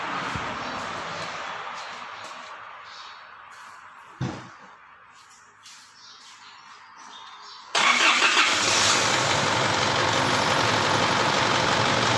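An Isuzu D-Max pickup at a repair garage cranks and starts after a no-start fault with the engine warning light, with a soft run-down, a brief pause, then the engine catching and settling into a loud, steady idle up close.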